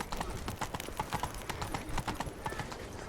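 Roach, a horse in The Witcher 3, trotting with a quick, even clip-clop of hooves, fairly close and moderately quiet, steady throughout.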